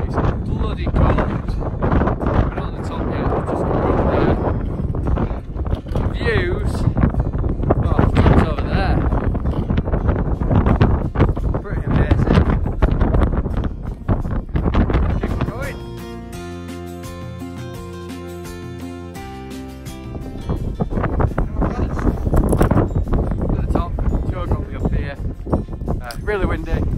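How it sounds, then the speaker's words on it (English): Strong gusty wind on the summit of Pendle Hill buffets the microphone in heavy roaring bursts, briefly easing midway before the loud buffeting returns. "It's really windy."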